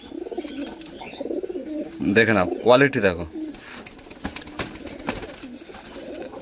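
A top-class pair of Kalanka pigeons coos in low, rolling bursts close by, with the loudest cooing in the middle stretch, while someone talks over and between the calls.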